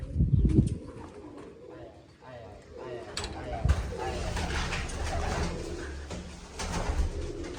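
Pigeons coo at a home loft after a pigeon-flying match, their soft repeated calls rising under steady nearby talking.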